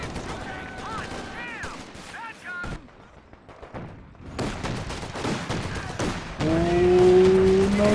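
A veteran Raketenwerfer anti-tank gun fires repeated shots in a Company of Heroes 2 battle, with sharp cracks amid a busy mix of other gunfire and vehicle noise, briefly quieting before the fighting swells again.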